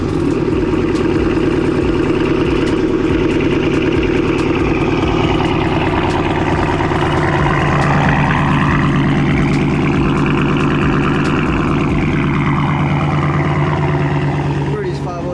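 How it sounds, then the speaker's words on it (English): Ford Shelby GT500 V8 idling steadily up close, a deep continuous rumble that holds level throughout with only slight shifts in tone. "Let me get y'all that cold start."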